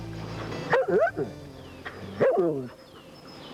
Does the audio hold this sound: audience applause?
no